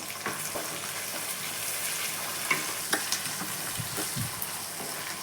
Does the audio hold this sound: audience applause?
no